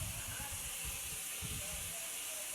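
Vegetables for adobong sitaw sizzling steadily in a hot pan, a constant hiss with soft clattering stirring underneath, faint and close, with no voice.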